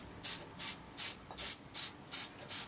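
A spray paint can spraying onto a Guyot 32oz backpacker bottle, seven short even hissing bursts in a steady rhythm, close and fairly quiet, with no talking.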